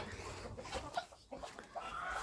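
Half-grown chicks in a farmyard pen cluck and chirp softly in short, scattered calls, faint and close, with light rustling between them.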